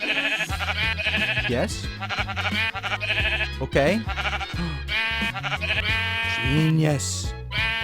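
Sheep in a video game bleat repeatedly in loud, wavering cries, mixed with steady game music while people talk over them.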